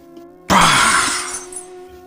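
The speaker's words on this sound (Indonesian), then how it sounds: "Suara persis sebuah benda kaca yang jatuh terdengar memekakkan telinga." A glass object falls and shatters in one sudden, loud crash. Fragments tinkle and fade over the next second against a faint background hum.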